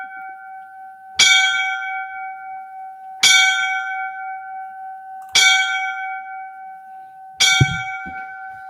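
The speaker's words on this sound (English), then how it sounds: "we're going to give the 5 bells to Chief Boyce's friend Mike, who died in the line of duty so many years ago" Five-bell tribute for a firefighter who died in the line of duty: single clear bell strikes about two seconds apart, each ringing out and fading over a steady sustained tone, with no talk.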